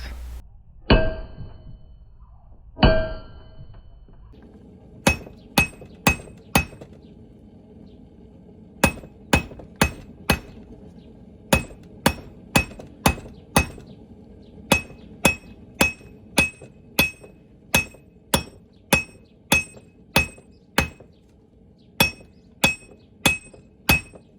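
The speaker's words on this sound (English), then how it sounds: "It's usually done with nice gentle taps with the flat of your hammer face" Gentle taps with the flat face of a hammer planishing metal for a forged wall hook, two heavier blows, then a long run of sharp, ringing strikes at a steady, slightly uneven rhythm, close and alone without talk.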